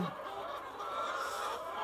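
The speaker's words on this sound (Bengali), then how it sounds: "এখন এসেছি একটা লেয়ার মুরগির ফার্মে" Layer hens at a village poultry farm, a faint, continuous mass of clucking and murmuring from many birds blending into a steady background din.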